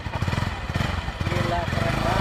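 Bajaj Pulsar NS 200 motorcycle from 2016, its engine running close by with a steady pulsing throb and slight revving, loud and continuous throughout.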